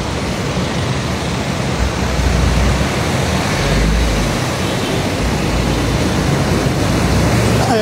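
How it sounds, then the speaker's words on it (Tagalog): Heavy rain pours down on a flooded Taft Avenue in Manila, a loud, dense, continuous hiss with a low rumble of water and possible traffic underneath, steady throughout. "Ayan na ulan mga kababayan."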